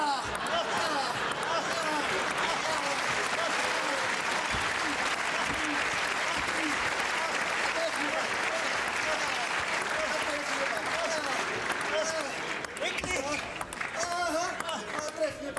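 Audience applause fills a table tennis exhibition hall, a dense, steady wash of clapping from a crowd, continuous and fairly loud throughout with a commentator's voice talking over it.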